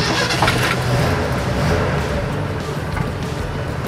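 A truck engine starts and settles into a loud, steady running drone, heard close with a brief surge near the start.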